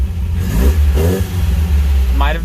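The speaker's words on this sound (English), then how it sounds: "She gets rev happy quick now." A Rambler car's engine revs up quickly a couple of times over its low running rumble, close by, with someone speaking briefly over the engine noise.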